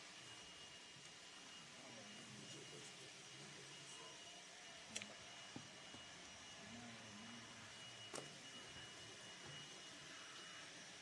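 A vacuum cleaner runs steadily at a city council meeting, a constant whooshing drone that fills the room for the whole stretch, with a few faint clicks and knocks over it and no clear talk.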